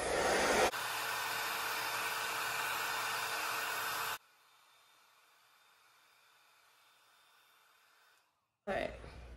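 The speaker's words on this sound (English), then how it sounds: "So I'm gonna get my blow dryer and blow dry this baby down." A blow dryer blasting on a synthetic lace front wig, a loud steady close rush of air that cuts to a quieter hiss, then goes briefly silent before restarting.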